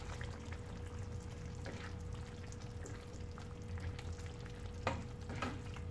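Curry leaves and coconut oil go into a simmering roasted-coconut chow-chow curry, giving a faint, steady bubbling sizzle with occasional stirring clicks and a low background hum. No speech.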